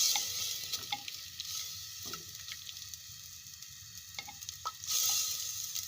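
Masala for a white chicken karahi fries in a pan with butter, ginger and garlic, giving a steady soft sizzle broken by the clinks and scrapes of a spoon stirring, close and without talk.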